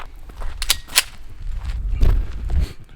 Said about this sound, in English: So I'm gonna set it back up and shoot it with a 9.